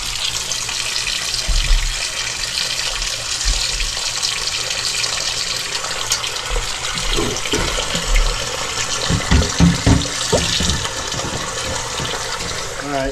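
Cold water rushes steadily into a container during bear fat soap making, a continuous close hiss and splash running the whole time, with some low clunks and bumps toward the end.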